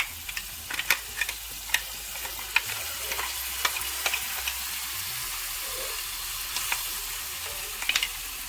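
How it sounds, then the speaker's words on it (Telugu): Ground onion paste fries for a fish curry, giving a steady sizzle broken by frequent small clicks and scrapes as it is stirred in the pan. "సో అది ఆ పేస్ట్ మొత్తం వేసేసుకున్నాక ఇట్లా ఫ్రై అయిపోతుంది."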